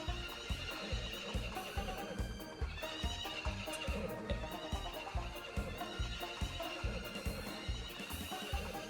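A horse in the Story of Seasons farming video game neighs over a steady, rhythmic patter of galloping hooves during a horse race, with game music layered underneath throughout.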